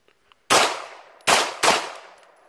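A rifle converted to fire 9mm from a 30-round magazine lets off three loud, sharp gunshots close by, the last two in quick succession, each followed by a short echoing decay.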